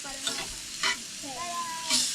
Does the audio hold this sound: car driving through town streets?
no